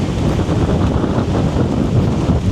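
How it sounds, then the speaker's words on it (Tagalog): Strong wind on an ocean beach during coastal camping, buffeting the microphone in a constant loud low rumble with the wash of surf underneath, no voices. "Grabe yung hangin."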